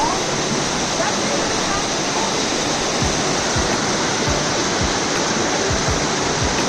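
A river near Atlanta, Georgia rushes and gurgles in a steady, loud, continuous wash of water that never lets up, with a few soft low thumps near the end.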